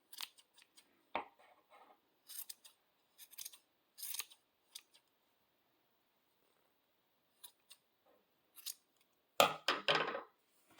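Scissors snip yarn strings to even length while trimming a crochet pom pom, producing scattered short crisp cuts in irregular bursts, with a denser flurry of quick snips near the end; close and fairly quiet, no talking.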